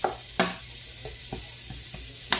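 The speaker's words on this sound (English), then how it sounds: "What you do when you fry the butter a little bit like that, it gets the butter flavored with that nice onion." Onions fry in butter in a pan, a gentle, even sizzle punctuated by a few sharp taps and scrapes of a utensil against the pan.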